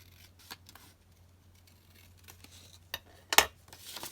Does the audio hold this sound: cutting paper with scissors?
yes